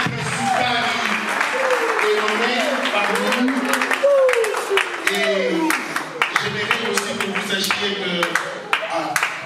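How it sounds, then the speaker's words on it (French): Audience clapping at a ceremony honouring a president, crisp individual claps scattered through a lively crowd while a voice talks and calls out over the applause. "Je vous prie d'applaudir très très fort la présence"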